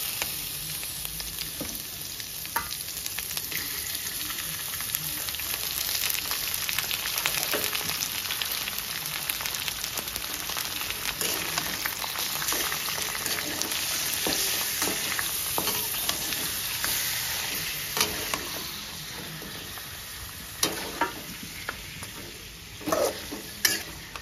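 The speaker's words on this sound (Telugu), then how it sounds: "చూడండి కడిగి పెట్టుకున్న చికెన్ వేసుకుందాము." Washed chicken frying and sizzling in a hot pan as it is stirred, a steady crackling hiss running throughout with occasional scraping clicks, close and fairly loud, no talking.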